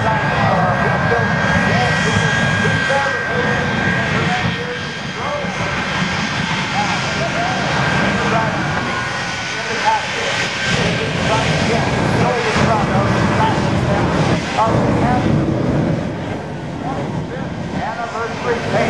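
A propeller aerobatic plane at the Alliance Airshow 2009 roars steadily overhead, loud and sustained throughout, with a faint rise and fall as it maneuvers, and an announcer talks over it.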